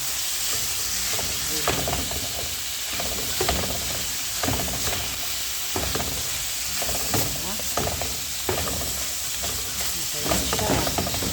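Baguio beans stir-fried with garlic, onion and tomato give a steady sizzle with repeated scraping stirs at a regular pace, close and fairly loud, with no talking.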